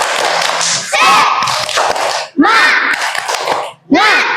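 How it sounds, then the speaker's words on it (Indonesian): Elementary schoolchildren in a math lesson perform a rhythmic spirit clap, with loud, close group clapping mixed with their chanting voices in several energetic bursts. "Tepuk semangat."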